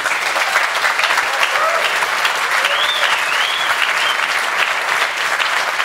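Sustained, dense applause from a science slam audience after a talk on smart speakers without the cloud, loud and steady from start to finish with no voice over it.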